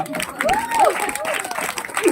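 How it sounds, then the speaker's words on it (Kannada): Audience applause at a Guru Poornima stage show, a steady dense crowd clapping with cheering that continues for about two seconds, while a host's voice rises over the clapping. "ಬರ್ಲಿ ಚಪ್ಪಾಳೆ 3 ಜನಕ್ಕೆ ಒಂದ್ಸಲ"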